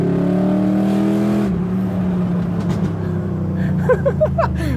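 A supercharged work van's engine idles loudly with a deep steady drone, then its exhaust lets out a rapid burst of sharp pops and crackles near the end.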